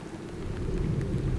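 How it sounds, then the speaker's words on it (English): Rain falls in Majorca as a short burst of steady, dense patter with a low rumbling undertone, fairly close and with no voices. "it's raining"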